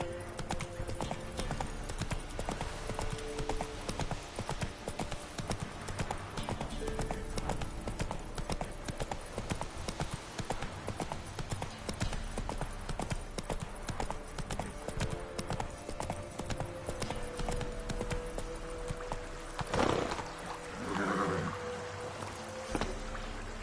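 Horse hooves gallop in Witcher 3 next-gen with a steady, close clip-clop that runs the whole way, joined near the end by a brief louder rustle.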